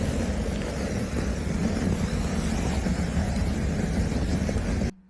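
A layered flamethrower effect with a crackly distortion layer roars as a dense, steady, loud whoosh, then cuts off abruptly just before the end.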